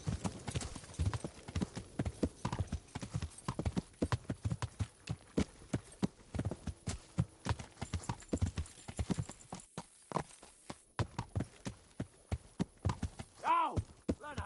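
Rapid clip-clop of horse hooves galloping steadily in a video game, with a brief whinny near the end; the hoofbeats sound slightly synthetic, game-like.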